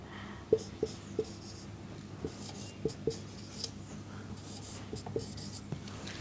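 Marker or chalk writing on a classroom board, with sharp taps and squeaky strokes in uneven bursts, close and fairly clear, no talking.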